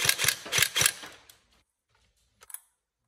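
A Tokyo Marui AK Storm NGRS airsoft electric gun firing a short rapid burst of about five mechanical clacks close up, followed by silence and two faint clicks.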